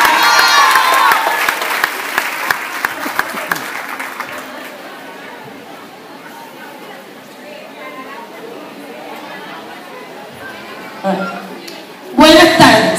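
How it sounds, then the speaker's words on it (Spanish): Crowd at a Colombian mayoral campaign event applauds a speaker's arrival, clapping strong at first then fading into murmuring chatter, with a burst of cheering and noise near the end. "Vamos a recibirla con un fuerte aplauso,"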